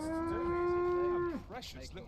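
An ox lows beside an ox cart in Dragon's Dogma 2, one long, steady moo held for over a second before it drops away, followed by brief soft background sounds.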